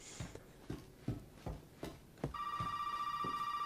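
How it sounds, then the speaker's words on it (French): A telephone rings in the survival horror game Resident Evil 7, a steady electronic trill that starts partway through and continues to the end, preceded by several short dull thuds like footsteps. "faut qu'il y ait un putain de téléphone qui sonne"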